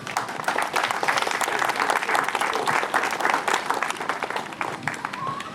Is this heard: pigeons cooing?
no